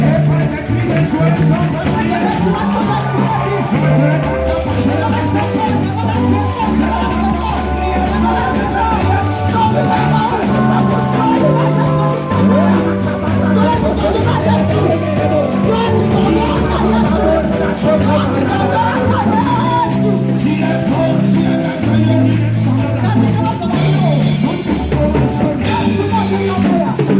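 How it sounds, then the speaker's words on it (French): A church congregation cheers, shouts and whoops together over steady low music during a worship service, a loud continuous hubbub of many voices. "Jésus, par des acclamations. Et par des cris de joie"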